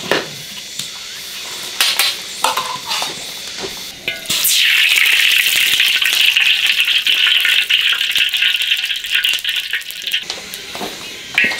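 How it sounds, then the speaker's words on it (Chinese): Silkworm pupae drop into hot oil in an iron wok, setting off a sudden loud bubbling sizzle that holds steady at close range, with brief clinks of utensils before it. "蚕蛹下锅炸酥，"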